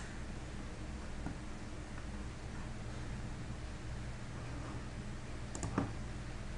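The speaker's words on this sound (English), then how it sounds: "I'll click on this link" A computer mouse clicks on a web page link: a few faint, sharp clicks over a quiet, hissy room background, with a slightly louder double click toward the end.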